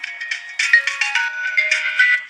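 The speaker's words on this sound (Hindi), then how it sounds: "देखिए मेरा फ़ोन बज रहा है" A mobile phone ringtone plays loud and close, a bright electronic melody of repeated short tonal pulses in a steady rhythm, with no voices.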